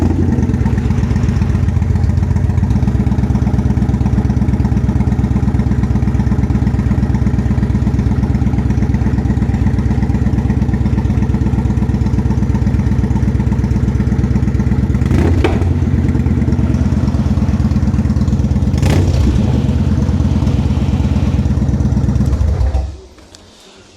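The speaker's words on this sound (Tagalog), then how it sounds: "we can actually hear the difference with the Cobra Speedster Shorties installed." A Kawasaki Vulcan 900 Custom V-twin fitted with Cobra Speedster Shorties exhaust runs steadily for about twenty seconds, a loud, throaty idle with a couple of brief blips, then cuts off abruptly near the end.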